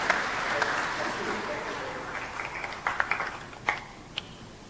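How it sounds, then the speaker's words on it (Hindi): An audience claps for corona warriors at a ceremony, starting as a soft broad wash of applause that thins toward the end into a few scattered louder claps. "सभी कोरोना योद्धाओं का तालियां बजा के स्वागत कीजिए"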